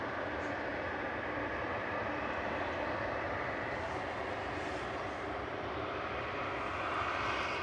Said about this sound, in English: Virgin is lined up and ready to go to Orlando GVSRB. This is an A330-900, a Neo with flight 73.